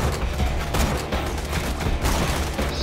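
Dense, loud video game gunfire in a shooter, a continuous volley of overlapping shots with a few sharper bursts standing out.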